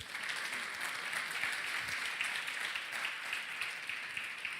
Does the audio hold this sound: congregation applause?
yes